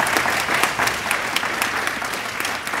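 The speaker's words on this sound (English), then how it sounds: "Can we give them a round of applause?" An audience at a county business council forum with political candidates applauds warmly, a dense run of steady clapping from a roomful of people, loud and close, with no talking over it.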